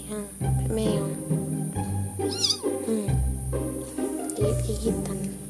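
A one-month-old kitten meows a few times amid a steady low hum, its thin, rising cries fairly close and soft.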